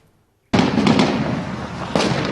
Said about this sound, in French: Des tirs de victoire dans les rues de Ramadi.